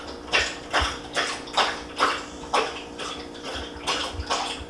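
A dog laps water in quick, regular slurps, about two per second, close and fairly quiet with no talking.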